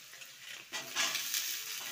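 Chopped potatoes drop into a pan with cloves, cardamom and cinnamon and start frying for poha pulao, a soft hiss swelling partway through as a spoon stirs them, close and fairly quiet, with no talk.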